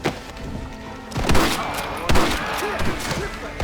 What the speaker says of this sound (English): You man the Gatling gun, Marston!